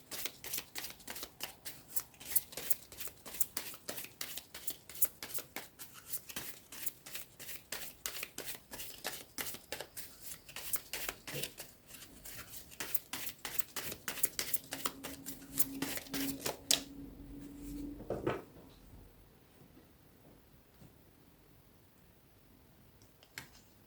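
Oracle cards being shuffled for a card reading, with fast rhythmic riffling clicks close up that stop partway through, leaving quieter handling noises.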